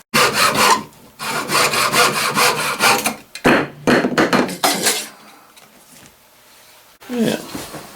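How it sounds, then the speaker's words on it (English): A handsaw cuts through a wooden dowel rod in rapid back-and-forth strokes, loud and close, in several bursts separated by short pauses, with a final brief scrape after a quiet stretch. "I need to now cut this dowel rod. Shorten it up a little bit."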